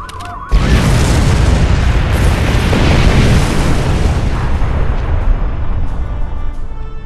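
A loud, sudden explosion in the Star Trek Online game bursts in after a brief electronic tone, then a dense roaring rumble of debris and fire rolls on continuously for several seconds, alone without talk.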